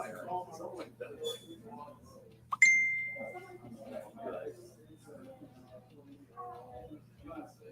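A phone notification ding rings out once, a clear bright tone fading slowly, amid quiet talking.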